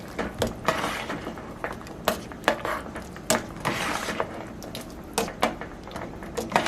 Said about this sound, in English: And now we're just gonna mix everything together.